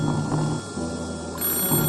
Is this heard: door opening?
no